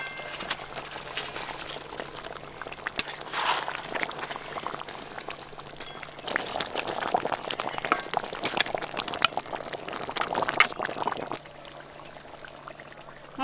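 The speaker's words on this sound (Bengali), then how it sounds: "রসা খুব ভালো করে ফুটে গেছে। এবার ভেজে রাখা সব মাছ দেব।" Fish curry bubbling on a village clay stove while fried fish pieces are dropped in, a steady boiling simmer with intermittent splashes and clatters, fairly close.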